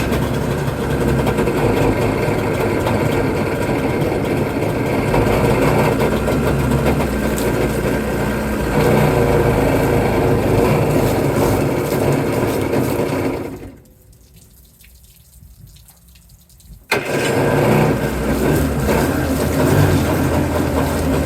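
The jet-converted jon boat's engine runs loud and steady at idle with a faint watery wash, abruptly cutting out for a few seconds before roaring back and continuing to run.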